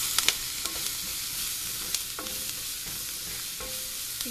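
Shark fish puttu being sautéed and stirred in a pan, a steady close sizzle broken by light scraping and clinking strokes of a spoon against the pan.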